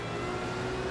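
A Porsche engine in a video game, a steady droning hum with a sustained tone, loud and continuous for a brief moment with no talk.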